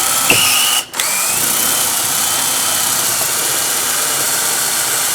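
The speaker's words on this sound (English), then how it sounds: "We're going to drill our hole" A power drill whines loudly and close up, drilling a hole while installing Bahama shutters, pausing briefly near the start, then running at a steady high pitch to the end.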